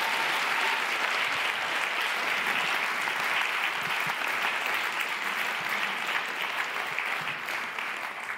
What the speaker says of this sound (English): So give them a warm round of applause